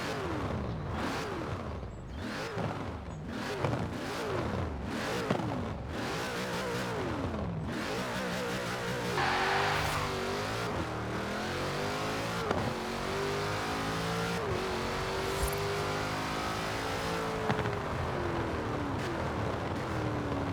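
A race car engine in the video game Forza Horizon 4 roars and revs continuously, its pitch climbing and dropping through repeated gear shifts, loud and up close throughout.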